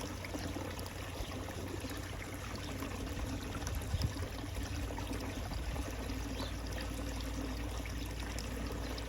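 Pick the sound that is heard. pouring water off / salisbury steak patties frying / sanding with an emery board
pouring water off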